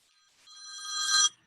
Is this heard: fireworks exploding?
no